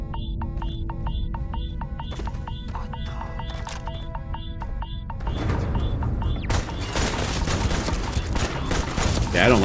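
Rapid gunfire in Starfield, a fast rhythmic burst of repeated mechanical shots giving way to louder, denser blasts and crackling impacts, with a voice faintly audible in the background.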